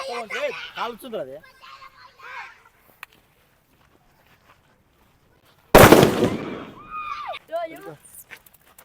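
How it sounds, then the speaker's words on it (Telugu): A puri bomb firecracker goes off at a cracker shop with one loud, sharp blast, preceded by scattered voices and a long quiet gap, followed by people talking. "ఇప్పుడు ఈ బాంబు పెడదాం పూరి బాంబు"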